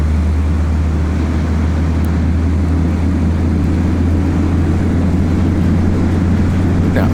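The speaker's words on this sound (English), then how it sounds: "as this air goes over the airframe at high speed, it starts to create even more sound and can even shake the aircraft as well" Steady, loud roar of air rushing over a Cessna 172 airframe in a high-speed dive in FSX, a dense continuous wash over a low droning engine hum, unbroken for the whole stretch with no voices.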